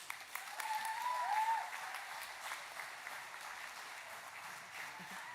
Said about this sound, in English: one last round of applause as they leave the stage